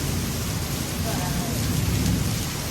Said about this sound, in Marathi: पाऊस पण बघू शकता किती पडत आहे